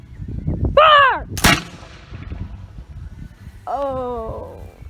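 A black powder musket primed from a horn fires once with a single sharp, loud report. Drawn-out shouted voices come just before and shortly after the shot.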